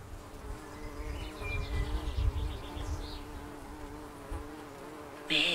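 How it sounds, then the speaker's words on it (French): Wasps buzzing under a blossoming cherry tree, their drone rising and falling close by with faint chirps of small birds scattered above, ending on a brief louder sound. "tu peux entendre les guêpes et les petits oiseaux"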